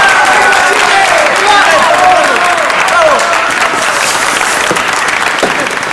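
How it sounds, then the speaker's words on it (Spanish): Crowd of onlookers at a Chilean independence declaration applauding, a dense continuous wash of clapping with voices mixed in throughout. "Esos que sonríen y aplauden"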